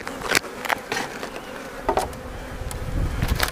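Honeybees buzz steadily inside a hive around a newly emerged queen, a dense, close hum with louder swells as individual bees pass near.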